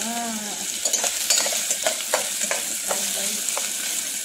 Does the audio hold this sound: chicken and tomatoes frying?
yes